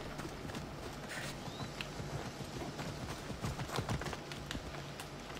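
Horse hooves clip-clop steadily in a video game set in ancient Greece, Assassin's Creed Odyssey, a quiet run of hoofbeats with no voices.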